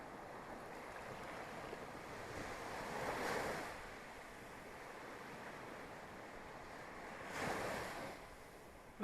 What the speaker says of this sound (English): in the vastness of the ocean